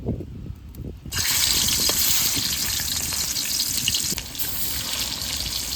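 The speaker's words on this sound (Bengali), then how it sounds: "তেল গরম হয়ে গেছে এবার মাছ দিয়ে দেবো" Pieces of rohu fish hit hot mustard oil in a wok and burst into a loud, sudden sizzle that keeps crackling steadily and close by.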